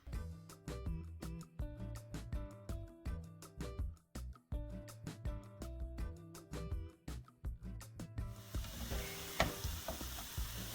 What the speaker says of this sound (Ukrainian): А на цій сковорідці ми будемо далі смажити цибульку з часничком.